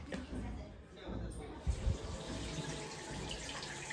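Tap water runs steadily into a sink as a child washes hands and feet at home, a continuous splashing rush with a few brief thumps midway and voices faintly beneath.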